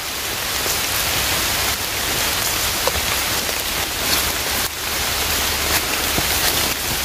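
Heavy rain pours down steadily and loudly on a rainy day of mushroom picking in the woods, a dense continuous hiss with occasional louder drops.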